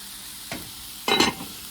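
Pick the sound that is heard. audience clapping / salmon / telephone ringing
salmon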